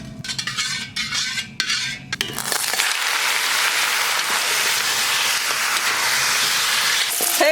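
Sugar frying in oil in a wok for red-braised pork rib color gives a loud, steady bubbling hiss after a few seconds of clattering stirring, all close up with no voices.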